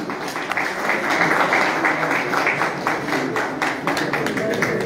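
Audience applause at a pigeon club prize-giving ceremony in Haripur, a steady dense wash of clapping that holds throughout at fairly close range, with a faint voice underneath.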